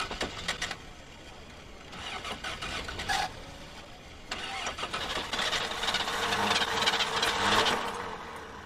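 An old van engine cranks repeatedly and fails to catch, with bursts of starter grinding separated by short pauses, growing louder and rougher toward the end, heard close and alone.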